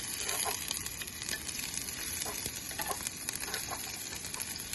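Yellow onion sweats in a pan for congee, giving a faint, even sizzle with light crackles that runs continuously without any talk.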